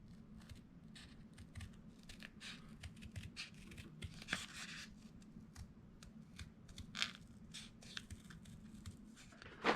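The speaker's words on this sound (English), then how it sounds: "I am just twisting my paper to get my sticker cut out just as I want it." Scissors cut a paper sticker out of chipboard scrap, giving steady faint snipping and rustling paper sounds that repeat close by with no talking.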